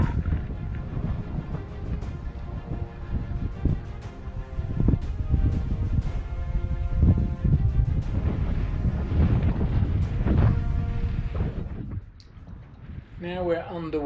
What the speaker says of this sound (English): Now we're underway, and hopefully we will be sailing very soon